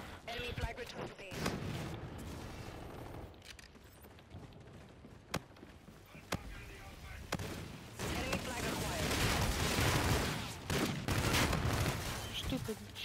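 Shotgun blasts and rapid gunfire from the Call of Duty: Infinite Warfare video game, with sharp bursts and sustained firing close up, heard alongside a player talking over the game.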